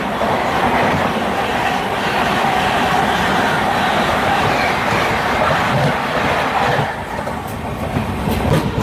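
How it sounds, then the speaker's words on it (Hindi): Hoshiarpur Express passing on a parallel track, heard from aboard a train: loud continuous rail roar with rhythmic wheel clatter and faint squeals, no talking. "अभी जो ट्रेन निकली थी वो शायद होशियारपुर एक्सप्रेस थी।"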